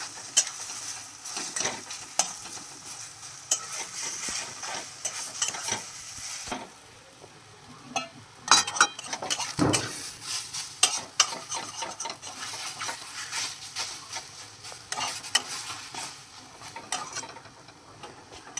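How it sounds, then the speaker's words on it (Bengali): Radhaballavi filling is stirred and fried in hot oil with continuous scraping, rasping stirring strokes over a steady sizzle, close and fairly loud, punctuated by occasional clicks and knocks of the utensil against the pan. "এবারে তেলের মধ্যে পুরটা নেড়ে চেড়ে নেব।"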